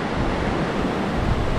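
Ocean surf washing over a sandbar at a fishing beach, a steady close wash of breaking water and foam with wind noise on the microphone, continuous through the whole stretch.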